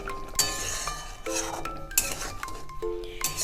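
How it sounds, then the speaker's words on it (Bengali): A utensil clinks and scrapes against a pan while chicken black pepper curry is stirred, giving sharp metallic taps at irregular intervals over a soft background. "এবার নেড়ে চেড়ে নেব এটাকে আমি।"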